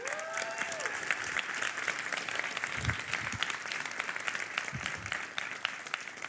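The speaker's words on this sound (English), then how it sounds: "I'd like to give them a round of applause." An audience at a game-development conference applauds steadily, a dense, even wash of many hands clapping that holds at a moderate level throughout.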